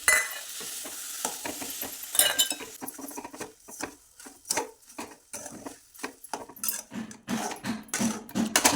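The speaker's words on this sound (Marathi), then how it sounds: "असं सारखं हलवत राहायचं" Khoa and sugar stirred in a hot kadhai over medium gas while making kunda: repeated close scraping and clattering of the spoon against the pan, with a faint sizzle underneath.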